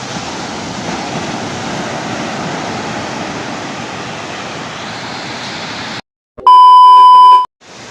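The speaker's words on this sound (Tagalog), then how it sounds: "Ang lalaki ng agos. Ang lalaki ng alon." Big ocean waves surging at a beach during high tide, a continuous loud roar of surf for about six seconds, then a short break and a loud electronic beep tone.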